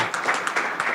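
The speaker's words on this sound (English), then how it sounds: "Give a round of applause for Brandon Iglesias." Audience applause greets a speaker at a tech meetup, a short burst of scattered hand claps with a few distinct individual claps standing out.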